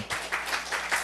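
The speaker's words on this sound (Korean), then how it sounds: "감사의 박수." Congregation clapping in a Korean church at the close of a Monday morning sermon, a steady burst of applause from a crowd, moderately faint and continuous without speech.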